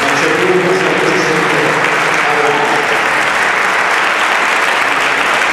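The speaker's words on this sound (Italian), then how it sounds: "Un applauso di ricordo" An audience at a Christmas band concert applauds in memory of a late maestro, a sustained, even wash of clapping from a full hall throughout.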